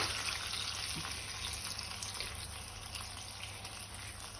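Two cups of water poured into a tomato paste mixture for a Middle Eastern stuffed eggplant dish, a steady close gushing stream with no talk.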